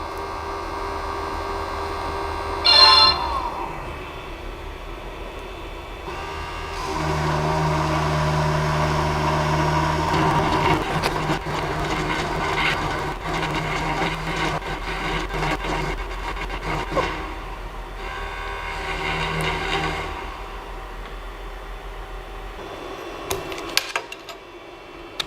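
Creality CP-01 3D printer running in CNC engraver mode, its spindle motor humming steadily with shifting tonal whine as it cuts, alone with no talk, loud at times with brief clicks.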